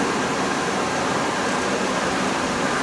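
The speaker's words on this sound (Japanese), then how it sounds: "RB のエアコンつけるとこれぐらいの音がするんですよ" A loud air conditioner runs in an RV, giving a steady, broadband rushing hiss that holds constant throughout before cutting off abruptly at the end.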